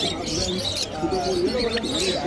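A pair of pineapple conure parrots make short chirps and squawky calls at a busy bird market in Uluberia, heard close up among background chatter and other bird noise.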